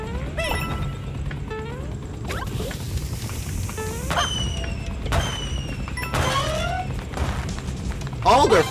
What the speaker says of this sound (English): Fireworks, okay.